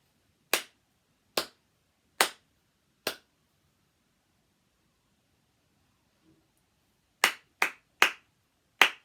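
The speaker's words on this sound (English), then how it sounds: "see if it matches the rhythm that I've clapped" Hands clap a rhythm alone: four sharp, evenly spaced claps, a pause of several seconds, then four quicker claps, close and clear against silence.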